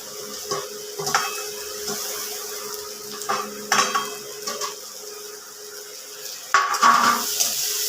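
Fried snails tipped into a pan of fried potatoes and onion, with metal utensil clinks and scrapes against the pan over a soft sizzle, in irregular clattering bursts.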